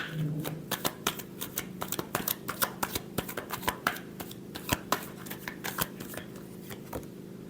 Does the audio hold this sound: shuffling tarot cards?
yes